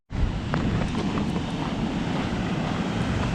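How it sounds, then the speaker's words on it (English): Big ocean waves breaking along the Tenerife coast, a steady loud wash of surf roaring without pause, mixed with strong wind buffeting the microphone. "just look at the waves today. Big waves."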